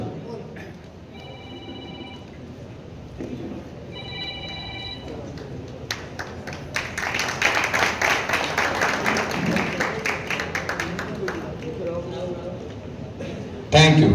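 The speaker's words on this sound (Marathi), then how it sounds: "टाळ्यामध्ये जोरात प्रत्येक पोजला टाळी व्हायला पाहिजे" Audience clapping and cheering for a bodybuilder's poses at a bodybuilding contest, building into sustained loud applause midway, with a ringing phone tone and speech heard earlier.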